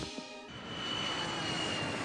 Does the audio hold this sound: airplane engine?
yes